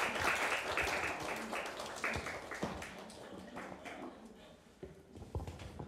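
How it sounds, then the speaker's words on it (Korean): Audience applause at a Korean humanities lecture concert as a book critic and a poet are welcomed onstage; dense clapping starts strong and gradually thins, with scattered louder claps near the end. "박수 한번 보내주세요."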